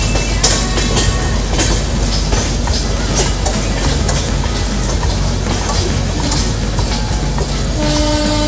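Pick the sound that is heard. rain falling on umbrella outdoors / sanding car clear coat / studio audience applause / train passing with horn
train passing with horn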